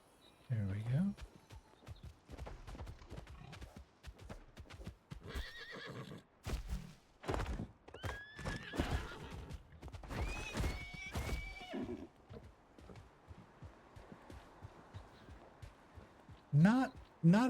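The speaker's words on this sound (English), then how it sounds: "Let's go ahead and grab our horse." A horse in the video game Palia whinnies and its hooves clip-clop in bursts; a louder neigh comes near the start and again near the end, with someone talking over parts of it.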